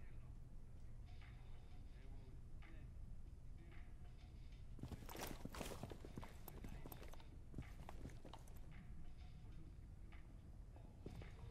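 Footsteps in Rainbow Six Siege, a run of rapid footfalls that swells in the middle and trails off, with speech over faint game ambience.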